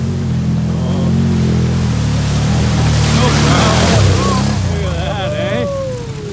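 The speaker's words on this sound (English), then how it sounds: "Amazing how much water these things push." An off-road side-by-side's engine drones steadily while it pushes through deep water that rushes and churns around it, with muffled voices talking over the noise.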